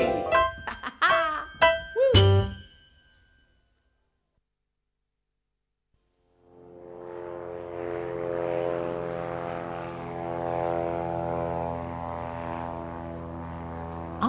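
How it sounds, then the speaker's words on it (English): A propeller airplane engine drone rises in after a short silence, following a few bright musical hits and a laugh, then holds as a steady, buzzing, harmonic hum in a children's song. "Let's fly a plane."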